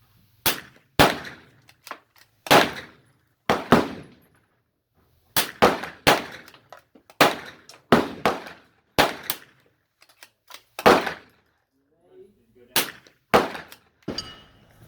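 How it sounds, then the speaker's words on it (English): A series of sharp, fairly close cracks spaced a second or so apart, each decaying quickly into silence, come from a CZ 457 Scout .22 LR rifle fired at an outdoor range. "First shot, CZ 457."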